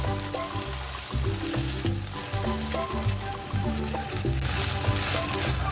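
Onion, ginger-garlic paste and green chilli sautéing in hot oil for an aloo paneer gravy, a steady close sizzle and crackle with occasional stirring scrapes throughout.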